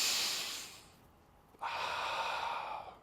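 Slow, deliberate breaths are drawn in and pushed out during a box breathing exercise, a long airy exhale fading to a pause before a strong, steady inhale rushes in, close to the listener.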